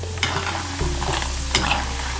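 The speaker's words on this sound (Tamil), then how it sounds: "நம்மளோட வாழைக்காய் இந்த மாதிரி பொரிக்கணும். அந்த சத்தத்தையே பாருங்கள்," Raw plantain pieces fry in hot oil with a steady, close crackling sizzle, broken by a few sharp stirring scrapes and pops, with no talking.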